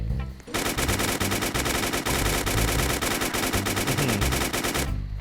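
An RPK-74 machine gun in a Roblox zombie survival game fires one long, rapid, evenly paced burst that stops abruptly after about four and a half seconds, loud and alone.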